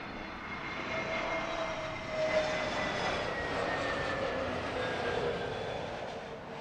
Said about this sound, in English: That one a 777-200 coming in from Houston.